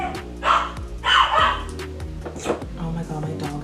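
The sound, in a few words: dog barking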